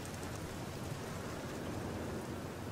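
Heavy rain falls steadily in the Black Mirror video game, a dense, continuous hiss of downpour without break, fairly quiet and with no voices over it.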